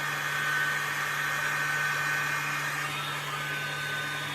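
A hair dryer fitted with a diffuser dries curly hair, giving a continuous, even whoosh of blowing air with a low steady hum, close and unbroken throughout.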